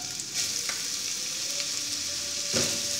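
Carrots frying in hot oil with garlic in a pan: a steady, close sizzle with brief bursts of crackle as the pieces are added and stirred.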